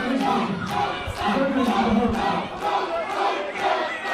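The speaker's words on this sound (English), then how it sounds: "The crowd is cheering him on, but the Pope is injured." Crowd at a women's and intergender wrestling show cheering and shouting in loud, surging waves that rise and fall rhythmically, like a chant, with little pause between swells.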